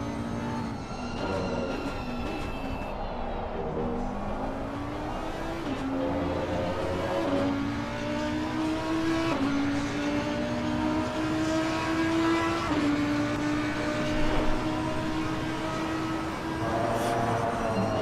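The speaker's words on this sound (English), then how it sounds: "I just want to ride on board with this car because it just sounds amazing." Onboard race car engine at COTA in a racing video game, a continuous high revving drone that rises in pitch through each gear and drops sharply at each shift, steady and loud with no talk.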